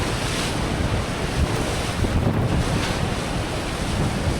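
Niagara Falls thunders up close in a continuous, loud broadband roar of falling water and spray, mixed with buffeting wind against the microphone, with no voices.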